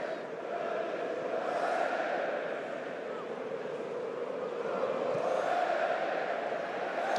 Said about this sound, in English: but the crowd are loving it.